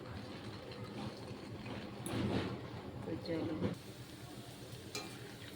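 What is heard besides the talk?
bread gulab jamun balls frying in hot oil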